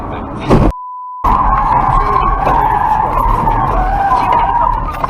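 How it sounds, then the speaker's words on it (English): A car skids during an overtaking accident, its tires screeching loudly and at length after a short burst of road noise and a brief beep-like cut. "as he was overtaking another driver he caused an accident and fled the scene"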